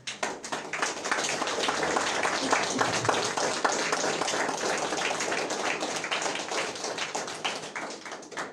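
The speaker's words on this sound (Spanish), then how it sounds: "¿Cuántos le pueden dar un aplauso al Señor?" A church congregation at a Sunday service applauds together, a dense continuous wash of many hands clapping that swells quickly, holds steady for several seconds and then tapers off.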